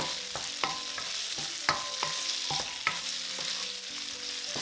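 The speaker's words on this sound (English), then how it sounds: "At some point it will start sizzling." Tofu fries and sizzles in olive oil in a pan, a steady crackling hiss broken by sharp clicks and scrapes of stirring, close and fairly loud, with no talk.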